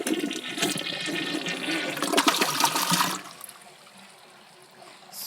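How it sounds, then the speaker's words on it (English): A newly installed toilet being test-flushed: a loud rushing flush lasting about three seconds, then a quieter trickle as the tank refills, with water noise rising again at the very end. "So I'm gonna give it 1 more flush."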